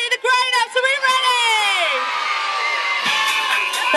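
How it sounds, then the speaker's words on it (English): A crowd of children and adults at a party cheering and whooping together, loud and close, with high shrieks and shouts blending into a sustained roar that carries on for several seconds. "Give a big cheer if you're ready for the last dance"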